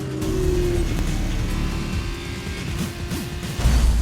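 Race cars in an F1 video game roar side by side in wheel-to-wheel racing, loud, steady engine drone with a high tone sliding down, ending in a sudden louder low burst near the end.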